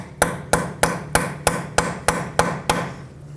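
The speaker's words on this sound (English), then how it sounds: "take a punch that fits in there or any other tool that you might have and give it a few taps" A hammer taps a punch to peen the axle nut on a 2012-2017 Toyota Camry. Nine sharp metallic strikes land at an even, quick rhythm, close and loud, with short ringing decays between them.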